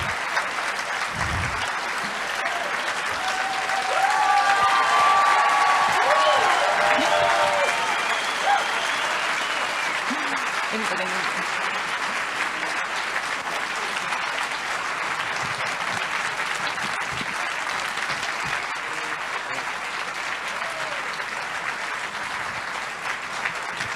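An audience at a conference on the Giza pyramids applauds the arriving speakers, giving sustained, dense clapping that fills the hall, steady at first and slowly thinning, with a brief voice heard over it early on.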